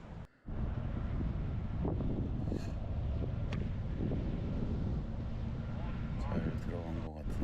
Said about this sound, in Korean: 바람 소리 들어보세요. 엄청납니다.